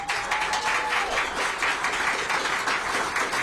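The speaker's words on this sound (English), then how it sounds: "Let's give her a round of applause" Steady applause from a crowd at a Washington, D.C. mayoral order-signing event, many hands clapping continuously throughout.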